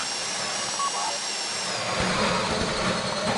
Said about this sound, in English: Okay, go in your bag, get out the drill.